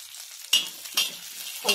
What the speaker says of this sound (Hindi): ये जो ड्राई फ्रूट है इनमें सब मैं हल्का सा फ्राई करके निकाल लूँ